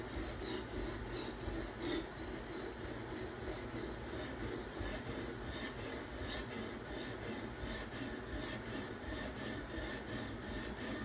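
A steel knife blade is drawn repeatedly across the stone of a fixed-angle sharpener, giving a steady, close rasping scrape in quick, even strokes that continue without pause and with no talk.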